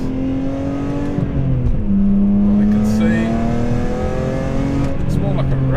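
Modified BMW M3 with S54 engine revving hard through the gears on a wet rally-style course, loud exhaust rising and dropping in pitch with a few pops, while a person talks over it from inside the car.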